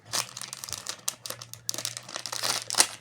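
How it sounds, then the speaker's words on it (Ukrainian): Crinkly plastic rustling and tearing as a plastic figurine packet is torn open, close up, in quick irregular bursts with no talking. "Погнали відкривати останній пакетик"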